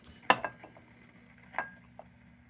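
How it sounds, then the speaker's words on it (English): Glass globe of a Feuerhand 276 Baby Special lantern being fitted into place, giving a sharp clink followed by a few lighter glassy taps and a second clear clink, close and moderately loud. "let's put the glass in for nice fresh glass"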